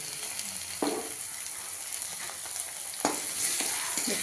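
A pan of methi and palak sizzles steadily with a bright frying hiss as butter is added, with occasional soft stirring scrapes and small clinks from close by.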